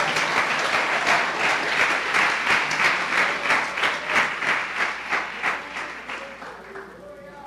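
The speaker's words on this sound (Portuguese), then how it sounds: "Dê uma salva de palmas ao Senhor." A church congregation applauds at a service, dense sustained clapping from many hands filling the room for several seconds, then fading out at the end.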